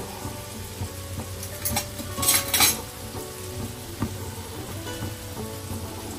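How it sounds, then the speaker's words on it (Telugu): Gongura sorrel leaves go into a pan of Andhra-style mutton curry and get stirred, with a soft steady sizzle under scraping and clattering spoon-on-pan sounds that grow busier for a moment midway. "ఇప్పుడు గోంగూర వేసుకుందాము"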